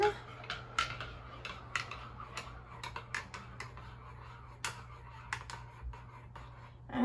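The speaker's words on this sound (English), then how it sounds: "I mix it around with my little rainbow spoon" Small spoon stirring dandelion tea in a cup, a run of quick light clinks and taps against the sides, close and fairly quiet over a low steady hum.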